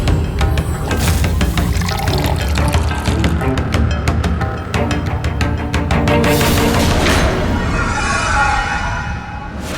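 Liquid is poured loudly in a continuous splashing stream as phenyl is mixed in, then thins to a lighter trickle near the end.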